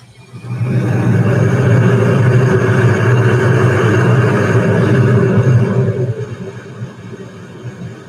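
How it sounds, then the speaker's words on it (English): Concorde's Olympus engines at full throttle in an FSX flight simulator sound pack: a loud, steady broadband roar swells in quickly, holds for several seconds, then eases off near the end. "These engines are really loud unless you want to hear the Olympus engine sounds at full throttle"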